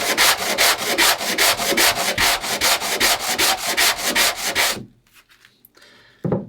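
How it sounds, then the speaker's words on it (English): Rapid back-and-forth strokes of sandpaper rubbing by hand on the wooden hull fillets of a small dory boat, steady and close, then a pause followed by a brief scrape. "I prefer using the sandpaper because it creates a variable curve."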